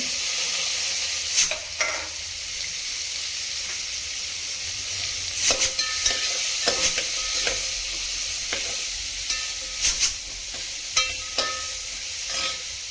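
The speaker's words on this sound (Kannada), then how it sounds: "ಚೆನ್ನಾಗಿ ಎಣ್ಣೆಯಲ್ಲಿ ಫ್ರೈ ಮಾಡಬೇಕು" Onion frying in oil with asafoetida and turmeric, a continuous close sizzle broken by repeated sharp clicks and scrapes of stirring.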